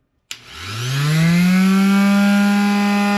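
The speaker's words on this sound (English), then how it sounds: "It's got enough power to run this little grinder." A small right-angle pyramid grinder powered by a BROWEY mini portable power station with hand crank switches on abruptly and spins up with a rising whine, then holds a steady, loud, high-pitched motor drone.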